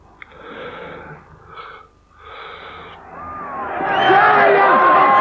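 Outside Dewsbury Magistrates Court, a voice speaks at first, then a crowd's shouting of abuse swells into a loud, sustained, dense roar of many voices.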